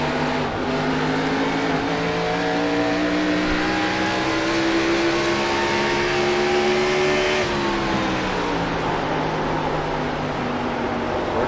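A stock race car engine on a racetrack holds a loud, steady drone with climbing pitch, then drops off as the revs ease, continuous throughout with no talk.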